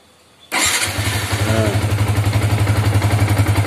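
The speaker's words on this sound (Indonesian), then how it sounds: "Kemudian kita tekan tombol starternya." Yamaha Vixion motorcycle electric starter cranking: after a brief quiet moment the starter kicks in with a loud, rapid rhythmic whirring churn that continues steadily, close up.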